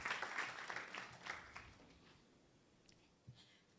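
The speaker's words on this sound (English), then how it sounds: "let's give him a round of applause" Applause at a World Population Day 2022 celebration, a burst of clapping that starts fairly strong and quickly fades to scattered claps, fairly faint and distant.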